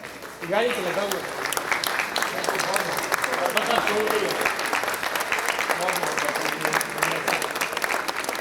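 Sustained applause from a large audience rising to a standing ovation at a Lahore cultural gathering, dense and steady clapping filling the room throughout with some crowd voices mixed in.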